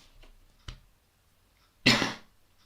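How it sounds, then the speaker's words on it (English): A single loud, harsh cough bursts out close by after a faint click, surrounded by near silence. "I had to cough then"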